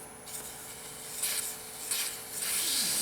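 Hand sanding a wooden Christmas ornament with 220-grit sandpaper, a soft hissing rasp that rises and falls in several close strokes with no talking.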